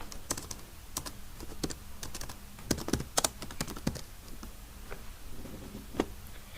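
Computer keyboard keys clatter in quick, uneven bursts of crisp clicks and taps, close and moderately loud, with short pauses between runs and no talking.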